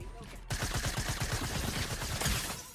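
A fast, steady burst of automatic gunfire in the video game Fortnite, loud and rhythmic, running almost the whole time after a brief quieter start.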